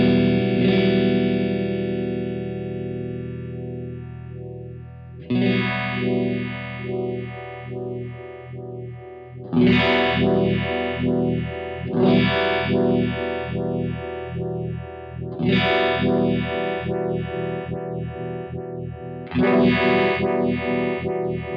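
Strymon UltraViolet vibe pedal set to zero intensity, with the bulb resting at its bias point to give a static phase-EQ colour, heard through a sustained electric guitar playing chords that are struck again every few seconds, with no voices.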